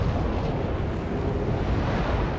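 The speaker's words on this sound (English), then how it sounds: "You'll get to see us explode." A warship explodes in World of Warships, one loud, dense, roaring blast that fills the whole stretch at high volume with deep rumble and no voices.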